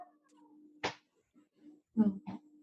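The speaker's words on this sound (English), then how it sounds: "she just comes over and distracts me and meows" A cat meows loudly twice, a short sharp call near the start and a longer two-part meow near the end, close by in an otherwise quiet indoor room.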